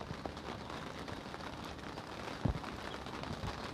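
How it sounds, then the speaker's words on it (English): Steady rain falls on an outdoor cricket ground during a T20 international in Malta, a dense hiss of drops building in intensity with one brief louder knock partway through and no talking. "now we're getting a bit more rain. This is getting a bit heavier."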